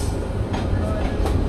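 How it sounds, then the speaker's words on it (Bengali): A Nazirhat local train running through rural Bangladesh between Chattogram and Nazirhat, heard from inside as a loud, steady rumble with rhythmic wheel clatter and rattling carriage noise, with faint voices in the background. "আমাদের ট্রেন কিন্তু এই গ্রাম বাংলার মধ্যেই এগিয়ে চলছে।"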